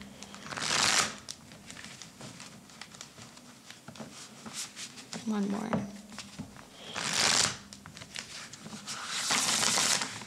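Tarot cards are shuffled in several quick riffling bursts, close by, with a person speaking softly between them.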